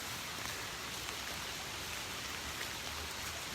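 Rain falls steadily and fairly softly as an even wash of hiss on a rural property near a chicken coop, with no voices and no breaks.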